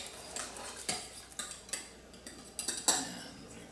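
Scattered clinks and scrapes of a utensil against a bowl while cinnamon is stirred into French toast batter, a few brighter taps standing out among softer stirring, close and alone.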